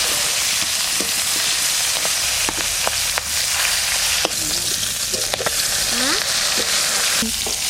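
Fish rubbed with salt, turmeric and mustard oil fries in a hot karai, a loud, continuous close-up sizzle spattering throughout with occasional sharp pops and stirring clicks.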